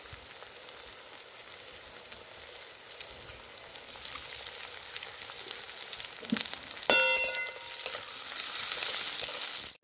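Chopped onion frying in hot oil, a faint steady hiss that swells louder toward the end, with a couple of brief clinks of a utensil midway, heard close with no speech.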